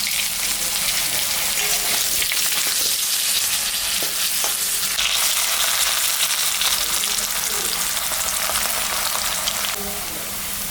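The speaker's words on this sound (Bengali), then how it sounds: "ভাজে নেব এখন আলুগুলা" Cubed potatoes fry in hot oil tempered with cumin and dried red chilli, giving a loud, steady, dense sizzle that keeps going without a break and has no voices over it.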